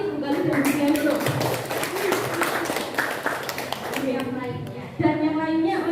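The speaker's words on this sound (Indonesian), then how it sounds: "Tepuk tangan buat Bu Ami, Bu Galuh, dan Bu Dian dulu" Applause rises for three teachers at a positive-culture dissemination gathering at a special-needs state school in Banjarnegara, a steady patter of many hands clapping under and between talking voices for the full span.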